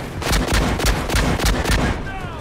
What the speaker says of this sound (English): Artillery cover coming.